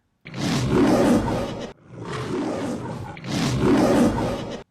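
Three long, deep roars of a lion, loud and close, each swelling then fading, with brief pauses between them.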